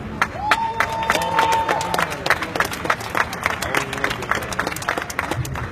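Rally crowd outside Springfield City Hall breaking into dense applause and cheering, loud and near, the clapping gradually thinning toward the end, with a voice sounding briefly over it.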